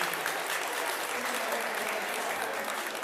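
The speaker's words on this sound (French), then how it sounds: "Applaudissez Laura." Conference audience at a Médecine Douce fair applauds Laura, a sustained, fairly soft wash of many people clapping together with no break.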